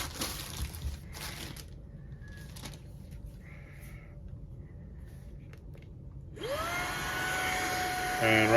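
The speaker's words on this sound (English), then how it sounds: "right now we have the air blower and it's also sucking" Fanttik Slim V8 Apex cordless car vacuum starts up as an air blower near the end, a close, steady whirring rush rising out of near silence after a few soft handling sounds.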